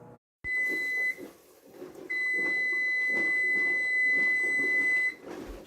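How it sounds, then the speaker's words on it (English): A kitchen timer beeps in one long steady tone that runs for a few seconds, stops, then sounds again for several more seconds, heard nearby over low kitchen clatter while canning a cranberry and ginger drink. "that is the sound of my timer"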